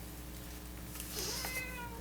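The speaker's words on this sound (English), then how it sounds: "There's a kitty cat trying to come in the door." A cat meowing at a door from outside, trying to come in: one faint, short meow heard indoors against a quiet background.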